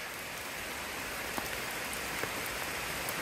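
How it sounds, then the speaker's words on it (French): Steady rain falling during the rainy season near the 4000 Islands in Laos, a dense, even hiss of drops with a few sharper patters, continuous and fairly close. "regardez comme il pleut"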